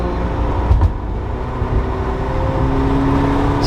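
A Porsche 968's front-mounted engine pulls hard above 4,000 RPM, a loud, steady, rising drone heard close from inside the car, with no talk over it.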